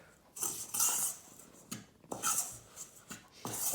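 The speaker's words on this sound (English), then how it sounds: "Stir it in as you go" Smoked paprika gets stirred into a seitan sausage mixture, with a spoon scraping and rubbing against the bowl in quiet, repeated strokes broken by brief pauses.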